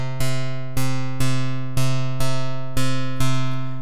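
Steady electronic beat from a Drambo step sequencer, with the second and fourth beats pushed slightly late by a step offset: loud sharp hits with ringing tonal decays, about seven of them in an even, close pulse.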